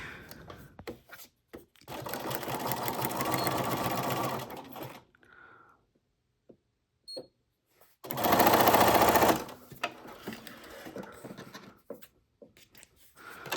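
Sewing machine running a zigzag stitch on paper in two separate bursts, each a few seconds long, with quiet handling noises between them.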